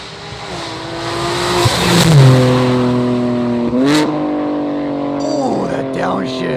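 A 700 horsepower BMW M2 engine revs hard, its pitch sweeping up and dropping through sharp downshifts with crackling bursts, loud and close throughout the few seconds.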